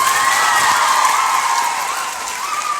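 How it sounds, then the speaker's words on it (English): An audience at a live show applauds in a loud, sustained wash of clapping mixed with cheering and high shouts, which tapers slightly toward the end. "Applause for that."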